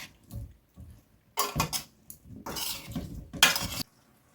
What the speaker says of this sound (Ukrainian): Спочатку треба гарно просмажити картоплю.